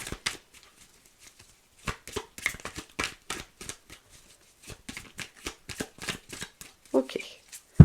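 A deck of tarot-style cards shuffled by hand before a reading, a run of quick, crisp riffling and flicking bursts, close and fairly quiet, with sparse taps and a few thuds toward the end.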